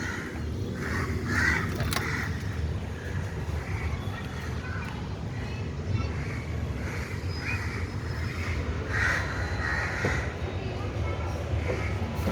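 Crows caw repeatedly in bursts over a steady background rumble, moderately close, with a voice talking underneath.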